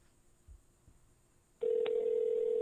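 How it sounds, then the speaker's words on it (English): Telephone ringback tone heard through a handset during a call on a podcast: a steady, loud tone begins after about a second and a half of quiet and holds to the end, with a brief click partway through. "I love that you can hear the ringing."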